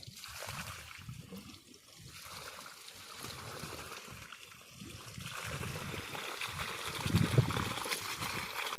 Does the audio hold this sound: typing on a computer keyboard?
no